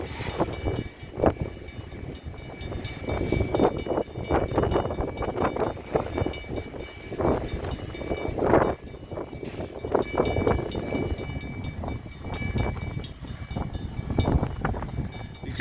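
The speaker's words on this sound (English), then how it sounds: "Now there's a shot that this train just stops." A CN freight train rolls steadily through a railroad crossing, its cars rumbling and clanking close by, with gusts of wind buffeting the microphone throughout.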